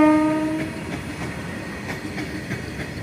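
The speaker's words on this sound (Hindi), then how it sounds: "ये देख सकते हैं, ये है मालगाड़ी।" Train horn of a goods train blasts briefly at the start, then the freight wagons roll past on a new railway line near Jaunpur, with rumbling wheels and rhythmic clicking continuing close by.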